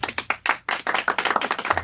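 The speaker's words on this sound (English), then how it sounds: "Round of applause." A short burst of hand clapping, a few people applauding with quick uneven claps for under two seconds.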